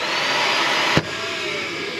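Built-in central vacuum dustpan in a Solitude 390RK RV running as a loud, steady broadband whoosh, with a brief bump midway as debris is swept in.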